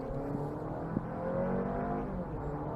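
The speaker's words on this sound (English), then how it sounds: "you could hear the engine for a bit" 2023 Honda CR-V hybrid four-cylinder engine accelerating up to highway speed, a rising hum and whir heard from inside the cabin, steady and moderate, with no talk.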